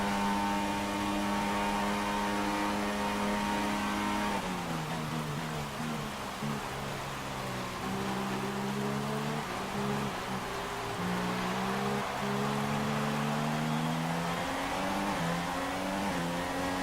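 Formula 1 race car engines from the F1 2016 video game scream at high pitch and accelerate steadily, with gear changes shifting the tone, loud and continuous for the whole stretch with no talking.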